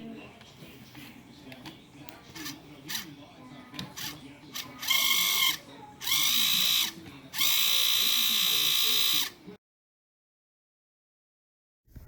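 The motor mechanism of a restored vintage Kenner Star Wars TIE Fighter toy runs in three loud buzzing bursts. Clicks and rattles come before the bursts, and the last burst stops abruptly into silence.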